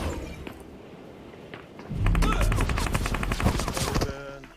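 Gunfire in a battle royale shooter, including bolt-action rifle shots, crackles in a dense burst after a quieter stretch, mixed with thumps and game effects.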